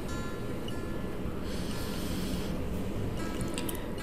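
A person sniffs a piece of single-origin craft chocolate up close, with a few soft, breathy inhalations in short bursts over a steady background hiss and no speech.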